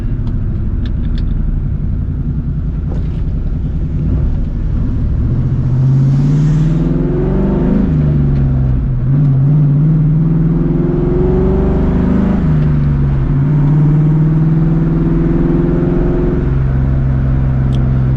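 A loud straight-piped 2004 Ford Mustang GT V8 drones and rumbles steadily while driving at night, rising and falling through several rev swells with no talk.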